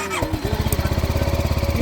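A motorcycle in neutral after an accident idles loudly and close by, its engine throbbing in an even, rapid pulse after a brief revving rise at the start.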